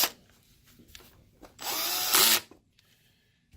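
A power driver sinks long screws into a Mitsubishi WD720U-G DLP projector during a repair, heard as a short, close burst of whirring of about a second that rises in pitch, with light handling clicks before and after.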